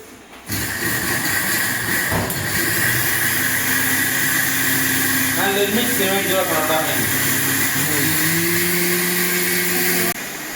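A kitchen mixer grinder blends tomatoes into a smooth paste, its motor whirring loudly and steadily for nearly the whole stretch while people talk over it.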